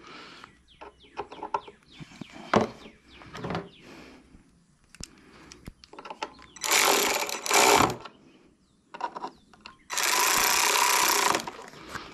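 A Cub Cadet XT2 lawn tractor runs and cuts grass in loud, coarse bursts of engine and mowing noise, broken by quieter gaps, with some voices between.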